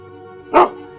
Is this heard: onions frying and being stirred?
no